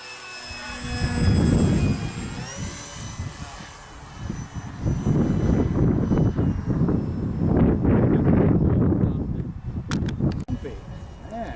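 A model airplane makes a slow pass in gusty wind. Its steady engine drone rises and swells as it goes by, with people talking loudly throughout.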